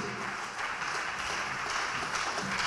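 A church congregation at a worship service applauds and cheers for Jesus, a dense, continuous wash of clapping and voices at moderate volume for a few seconds.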